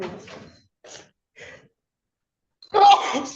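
A single sharp sneeze bursts out near the end in a quiet courtroom, preceded by a few faint breathy sounds and short murmurs.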